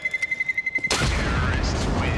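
Bomb detonating in a Counter-Strike match at a pro esports grand final: a beeping countdown gives way to a sudden loud blast whose rumble lingers and fades, with a commentator's voice talking over it.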